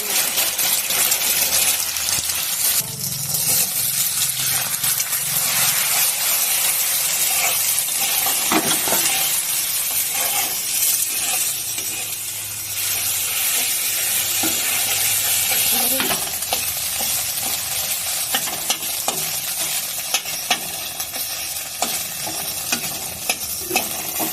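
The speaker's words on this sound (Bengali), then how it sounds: "এবার তেল গরম হয়ে গেছে, এবার ডিমটা ছেড়ে দেবো।" An egg fries in hot oil with a dense, continuous crackling sizzle that stays loud and close for the whole stretch, dotted with small pops and light utensil clinks, and no talking.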